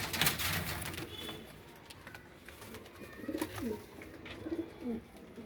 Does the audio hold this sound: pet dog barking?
no